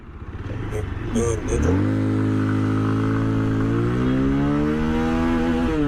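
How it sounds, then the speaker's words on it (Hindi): A 2026 Bajaj Pulsar 220F motorcycle accelerates hard through its gears, the engine note climbing loud and close, then dropping at each upshift before rising again. "थोड़ा सा भगा के दिखा देता हूँ कि कौन से गियर में ये बाइक कितना चली जाती है"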